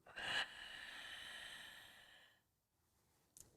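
A single long exhale during a neck and breathing exercise, a soft airy breath lasting about two seconds, close and alone, ending in quiet with a faint click.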